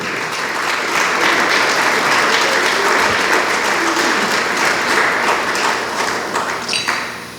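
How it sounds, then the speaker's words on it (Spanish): A church congregation claps together in praise, loud dense applause that holds steady before tapering off at the end. "Dele palmas al Dios del cielo."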